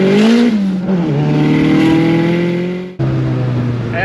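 Turbocharged SR20 engine in a Datsun 1600 with a CNC-ported head, spooling loudly from the cabin: a sustained rising engine drone and turbo whine, with a brief gear-change dip before the tone climbs again.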